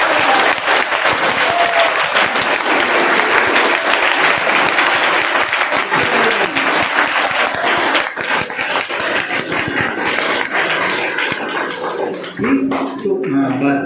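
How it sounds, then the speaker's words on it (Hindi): Loud, sustained audience applause fills a school motivational seminar hall at Deen Dayal Inter College, a dense wash of many hands clapping that thins slightly near the end as a voice emerges. "ताली बजाने के लिए इतना जम के बजाना कि हाथ हाथ लाल हो गए"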